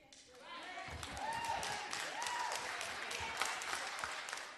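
Audience at a city council presentation on a homeless encampment plan claps steadily, a moderate indoor patter of many hands with a few louder thuds, holding for several seconds.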